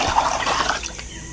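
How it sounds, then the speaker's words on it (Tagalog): Water is drained out of a fish breeding tank, a close, splashy gush and trickle that fades toward drips near the end. "So, yung tubig, tanggalin natin muna."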